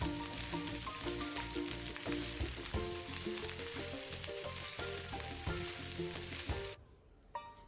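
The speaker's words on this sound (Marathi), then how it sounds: "आता तव्यावर थोडंसं तेल घालून हे कांदे फ्राय करून घेणार आहोत" Onions sizzle loudly and continuously in oil on a pan with occasional stirring clatter, the frying cutting off abruptly near the end.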